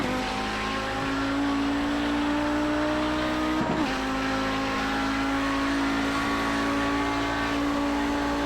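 An Audi 90 GTO race car at Bathurst in a racing game, its engine droning loudly and steadily at high revs throughout, with a brief shift-like wobble midway and no talking.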